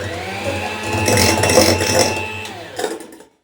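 Electric hand mixer whirring steadily as it beats eggs into foam, a continuous motor hum with a slight pitch shift near the end before it cuts off.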